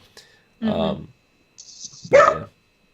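A dog gives two short barks a moment apart, near and fairly loud, with silence around them.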